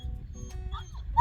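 A dog makes short whimpers and yips close by, a few brief high whines over low background rumble.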